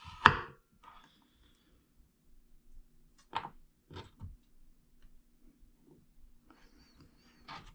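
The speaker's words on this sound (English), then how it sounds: "We're making little sticks by running our knife just" A knife julienning vegetables into thin sticks on a cutting board for mei fun, with one loud close chop followed by a series of quieter, irregular taps and cuts.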